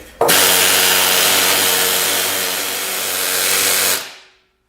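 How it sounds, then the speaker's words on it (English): A pneumatic scaler knocks rust off metal, a loud, dense continuous buzzing rattle that starts abruptly and runs steadily for about four seconds before cutting off. "That's why it's nice to have a scaler for that kind of stuff."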